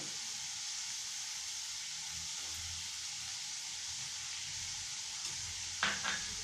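Onion, curry leaves and garlic fry in a pan with a steady, faint sizzling hiss, and a small clink or stir sound comes near the end.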